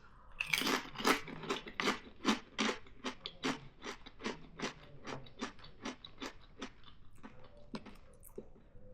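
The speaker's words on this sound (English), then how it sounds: "Kettle is always really crunchy because they're thick." Rapid, loud crunching of thick kettle-cooked potato chips being chewed close up, a steady rhythm of sharp crackly bites with no talking.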